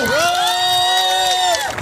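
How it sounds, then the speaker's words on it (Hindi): At a sports festival in Thatta district, a crowd erupts into cheering, with one long, sustained shouted cheer ringing above the background noise before tapering off. "उनके लिए जोरदार तालियां होनी चाहिए"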